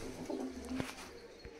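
Pigeons from a large breeding pair kept by a fancier coo softly in a low, steady murmur, with a few brief rising notes over faint background noise.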